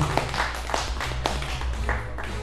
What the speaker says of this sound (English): clap for that poet,